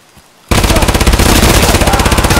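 PPSh submachine gun firing in a video game, a loud continuous rapid automatic burst that starts abruptly after a brief quiet moment and runs without pause.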